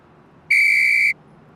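A police whistle is blown by monkeys in a cartoon: one shrill, steady blast lasting just over half a second against quiet background.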